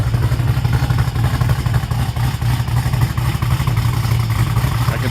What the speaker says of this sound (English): She's got a tamer exhaust on this, but it still sounds really good.